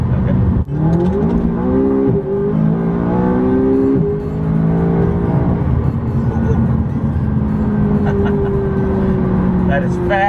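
A McLaren 570 sports car accelerates hard, its engine note climbing steadily through rising revs and shifting pitch, loud and close throughout, with people talking over it.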